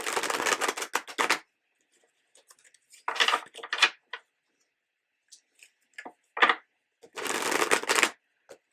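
Oracle cards are shuffled by hand in several close, crisp bursts of riffling and flicking, separated by quiet pauses, with no talking.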